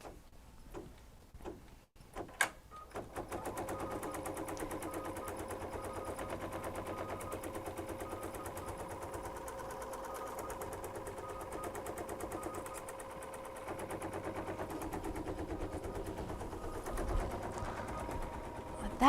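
An embroidery machine stitching a star design runs in a fast, even mechanical rattle for most of the stretch, starting after a few sharp clicks, with no talking over it.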